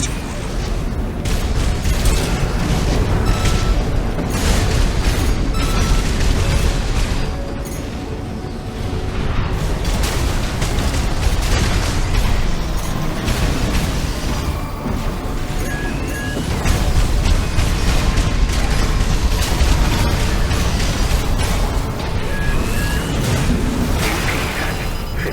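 Heavy booming blasts from bombs in the mech game Armored Core VI roll through a dense, loud battle mix, with continuous rumbling impacts and mechanical clatter over about twenty-five seconds, briefly dipping near the middle.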